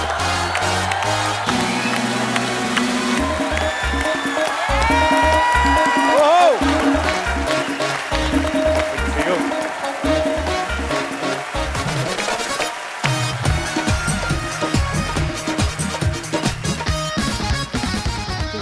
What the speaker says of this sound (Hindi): प्लीज आप सबकी जोरदार तालियों के बीच